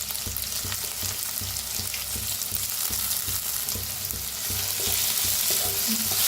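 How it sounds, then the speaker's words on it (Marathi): Crushed garlic and chili roast in a hot pan for a spiced eggplant bharit, giving a steady close sizzle broken by regular scraping stirs, with no talking. "छान भाजूया ह्याला."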